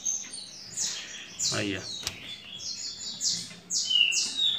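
Newly hatched green-winged saltator chicks chirp faintly in their nest, giving repeated thin, high peeps in short bursts, while a person speaks softly nearby.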